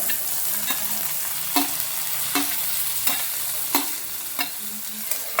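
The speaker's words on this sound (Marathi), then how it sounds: "आता त्यामध्ये टोमॅटो टाकून घेत आहे" Tomatoes fry in a pan with onion that has been cooked to pink, a steady close sizzle broken by regular scraping stirs about every second, with no voices.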